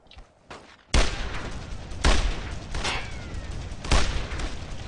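Heavy gunfire from the World War II shooter Brothers in Arms: Road to Hill 30, with loud, booming shots and bursts recurring about once a second over a dense, continuous battle din.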